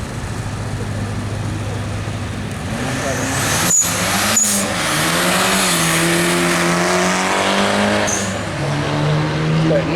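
A turbocharged 1050cc Fiat races past at speed trials, a loud engine rising and falling with a couple of sharp gearchange pops, heard close over a general crowd and track background.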